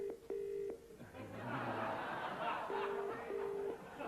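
Telephone keypad tones and a ringing line during a call-in segment on a 1993 TV game show, distinct beeps and a repeated ring tone with crowd noise swelling between them.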